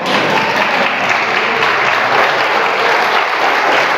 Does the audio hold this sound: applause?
yes